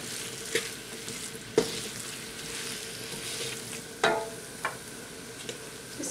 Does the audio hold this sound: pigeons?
no